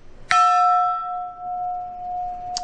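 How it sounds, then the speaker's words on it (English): A single sharp metallic strike of a mallet on a steel gas cylinder followed by a long, clear bell-like ringing tone that slowly fades, then a second light tap at the end. "Sounds like a bell. It's ringing out."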